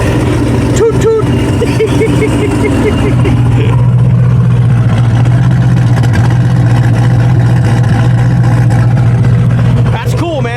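A customer's Corvette starts moving off, its engine swelling into a loud, sustained drone after a few seconds while people talk nearby.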